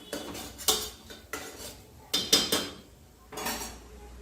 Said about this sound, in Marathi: एक चमचा धना पावडर टाकायची आहे ती देखील मिक्स करून थोडीशी परतून घ्यायची